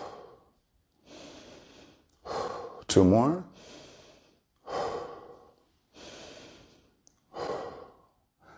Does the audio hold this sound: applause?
no